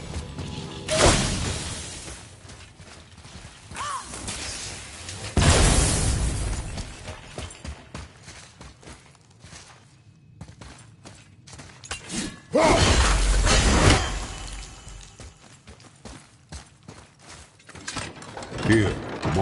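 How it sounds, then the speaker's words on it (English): In God of War, objects shatter in several loud crashing bursts spread across the stretch, each a sharp broadband smash with a short decay, separated by quieter stretches of game sound. "tired of shattering things with this"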